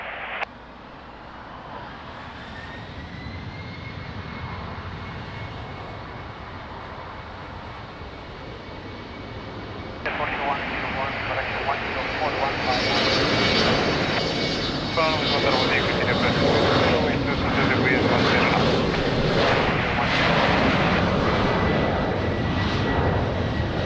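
A fixed-wing airliner takes off from runway 20 at Lisbon Airport, its engine roar building steadily and surging louder midway into a broad, sustained rumble; a voice talks over it at times.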